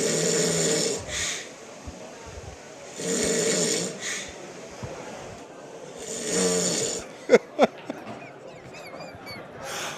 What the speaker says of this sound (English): That was Craig Marsh snoring.